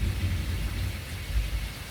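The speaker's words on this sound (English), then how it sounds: "No tornadoes today, just this thunder" Thunder rumbling low and continuous through a heavy rainstorm, with the dense hiss of rain falling on surfaces filling the background, steady and fairly loud throughout.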